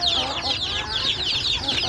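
Close, continuous clucking from a one-eyed hen, the calls rising and falling in quick bursts with no pause.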